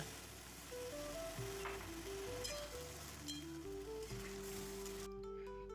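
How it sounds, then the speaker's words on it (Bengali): Washed Gobindobhog rice frying in a spice tempering with ginger gives a faint, steady sizzle beneath a gentle melodic music background. "ফোড়নটাকে একটু নাড়াচাড়া করে তাতে দিয়ে দিলাম আগে থেকে ধুয়ে জল ঝরিয়ে রাখা গোবিন্দভোগ চাল"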